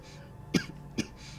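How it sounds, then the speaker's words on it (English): A person coughs twice, short and close, about half a second apart, with quiet background between. "Sorry if I'm coughing."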